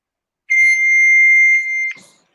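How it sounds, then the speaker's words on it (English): Fax machine answering tone on a phone line: one loud, steady high-pitched electronic tone held for about a second and a half, ending with a short burst of noise. "That's a fax machine."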